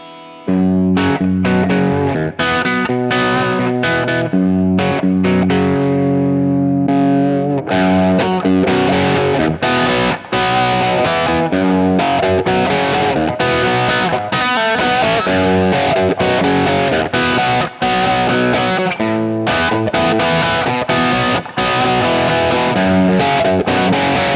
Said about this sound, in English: boost a driven amp with a thick 800 Hz mid-push drive tone for a cocked wah type sound